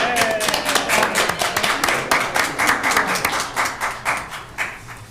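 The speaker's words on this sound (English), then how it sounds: "Can we applaud them?" Audience at a Marion County commissioners meeting claps steadily for about five seconds, a dense, fairly loud run of handclaps with a loose pulsing rhythm and no voices over it.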